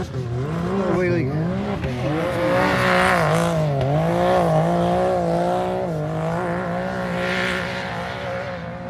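Can-Am UTV engine revving hard during a wheelie, a loud, sustained, rising and falling motor drone with tire noise, close by and steady for the whole stretch.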